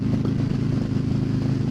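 A cruiser motorcycle engine running, a steady low rumbling idle with a fast pulsing throb, close and fairly loud with no talking.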